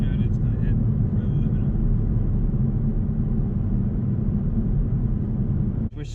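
A new sixth-generation Chevrolet Camaro ZL1 engine roars loudly from inside the car under hard acceleration, a deep sustained rumble that dips briefly near the end as it shifts gear, with talk over it.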